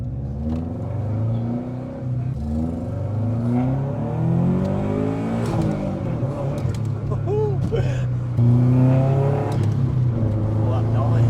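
Subaru-swapped four-wheel-drive VW Golf GTI Mark V engine rumbling and rising in revs from inside the car, a steady low drone with swelling pitch, while people talk over it.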